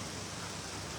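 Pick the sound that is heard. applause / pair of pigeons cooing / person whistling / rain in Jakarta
rain in Jakarta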